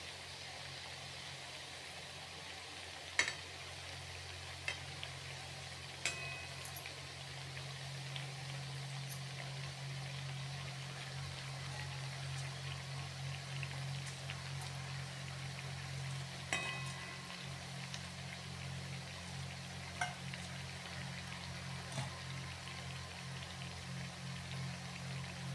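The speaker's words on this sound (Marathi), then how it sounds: "2 मिनिटं असे एका अंगावर तळून द्यायच्या कमी गॅसवर आणि मग नंतर पलटी करायच्या." Bhajani chakali, a Marathi Diwali snack, frying in oil over a low gas flame: a soft continuous bubbling sizzle with a low steady hum beneath and a few scattered sharp pops, faint and even throughout.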